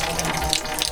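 Water gushing through a PVC pipe on a house-building site, a brief loud rushing flow heard up close and alone.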